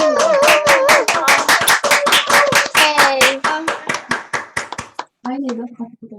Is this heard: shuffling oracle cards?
no